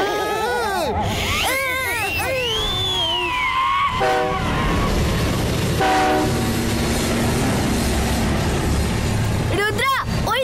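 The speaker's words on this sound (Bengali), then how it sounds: "ওই দেখো আমাদের ট্রেন" A train horn blares in an animated desert adventure show, with steady, layered tones around the middle of the clip. Whistling effects, music and character vocal sounds surround it throughout.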